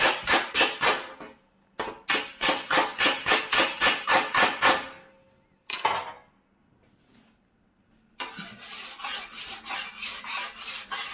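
Rapid rhythmic scraping strokes work across a chrome bumper's metal in quick bursts, close and crisp, broken by pauses before another run of even, repeated passes.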